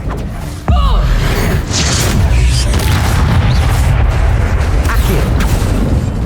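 Confringo fire-blast spell in the video game Hogwarts Legacy, a sudden loud boom followed by a dense, sustained rumbling roar of blast and debris that fills the scene to the end.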